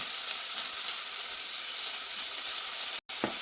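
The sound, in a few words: chopped onion and curry leaves sizzling, stirred in pan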